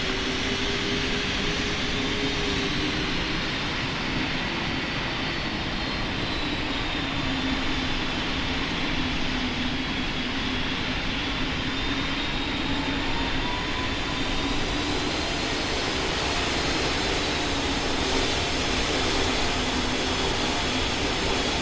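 Roaring jet engines of an airliner taking off on a runway in the Roblox flight game PTFS. A steady, loud, broadband rumble holds for the whole stretch with no pauses and no talking.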